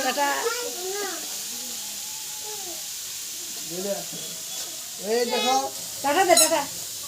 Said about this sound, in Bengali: দেখো আমার মা নিরামিষ রান্না করছে